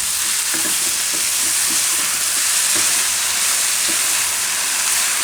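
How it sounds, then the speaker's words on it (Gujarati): Potatoes tossed into tomatoes frying in a pan for a Gujarati onion-and-potato shaak give a loud, steady close-up sizzle with faint scraping stirs and no talking. "હવે એમાં આ બટેટા આપણે નાખી દેવું મિક્સ કરી દેવું"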